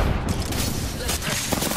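A brief, loud burst of continuous automatic fire from Apex Legends fills the moment, dense and close throughout.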